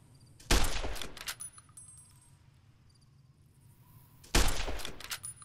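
Two short, sharp volleys of gunfire aimed at scorpions in Fallout New Vegas, a few seconds apart and fairly quiet, with a dying rattle after each against a calm background.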